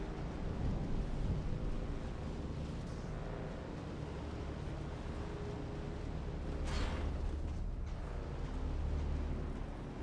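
A desert storm in the game Dune: Awakening: a continuous heavy roar of wind and rumble, loud and steady for several seconds, with one sharper gust or crack partway through and no talking.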